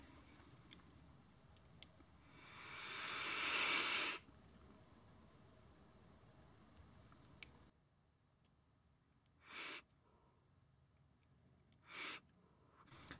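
Air is drawn through a Voltrove V2 Mini RTA vape with the airflow fully open, giving one long, quiet, airy hiss of a few seconds. Two short, faint clicks follow after a quiet pause.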